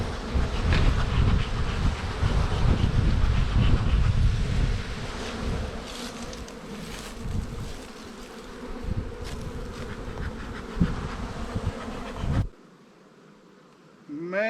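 Honeybees at an opened, smoked hive swarm with a dense, loud buzz that rises and falls close by, with clicks and handling noises, before cutting to near silence at the end.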